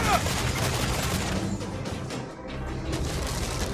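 Ship cannons firing in the Assassin's Creed Freedom Cry naval game, a dense barrage of booming blasts and crashing impacts rolling continuously, with a brief lull before more volleys.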